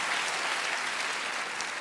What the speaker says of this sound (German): ja, ich darf ruhig klatschen